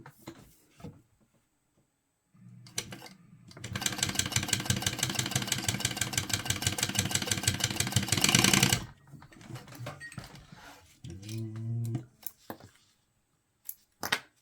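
A sewing machine stitching across the bottom edge of fabric, running in one steady, rapid mechanical burst for about five seconds, with handling and clicks before and after it.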